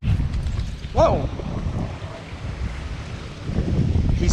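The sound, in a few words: strong wind on the Mississippi River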